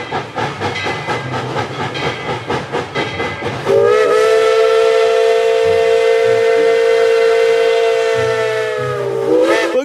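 A toy train sounds off: rapid rattling clicks, then a steady, high steam-whistle tone held for about six seconds, loud and close, cutting off near the end.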